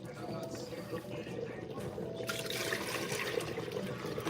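Tomatoes being washed in water for Ghanaian chicken light soup, a soft continuous sloshing and trickling that swells in the second half, fairly quiet and steady.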